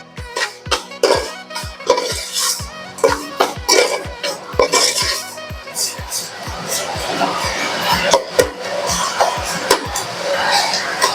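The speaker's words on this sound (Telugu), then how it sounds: "ఉల్లిపాయలు బాగా ఫ్రై చేసుకుందాం" Onions fried in a pan for chicken and drumstick curry are stirred with a utensil, giving a steady rhythm of clinks and scrapes against the pan over a soft sizzle, with faint voices at times.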